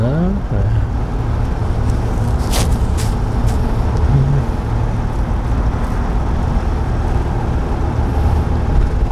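A manual-transmission car during a driving lesson accelerating and shifting into third gear, with a steady engine hum close inside the cabin and a brief rising whine near the start.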